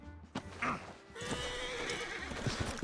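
A horse in the video game Red Dead Redemption 2 whinnies loudly in the middle, with hoof clatter and outdoor ambience around it.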